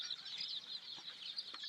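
Young four-day-old farm chicks chirping steadily in a rapid, high-pitched chorus before feeding, fairly close and continuous, with a slightly louder peep at the end; no talking.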